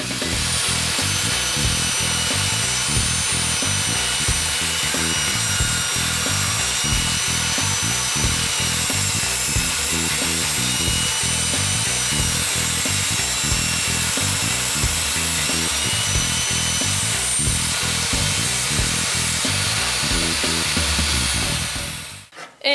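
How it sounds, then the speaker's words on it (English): A table saw rips a 3/4 inch maple board, its blade running in a loud, continuous whine and grinding cut for about twenty seconds before spinning down at the end. "taking this maple that's 3/4 inch thick and rip it down to 2 3/8 inch thick on my table saw"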